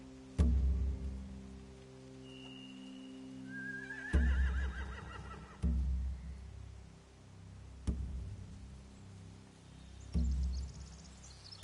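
Horses neighing near hay beside a boat in a TV drama scene, several loud whinnies rising over a quiet background, with heavy thuds recurring every few seconds.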